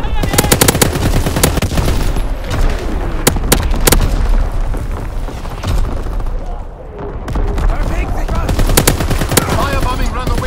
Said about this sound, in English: Firing primary battery.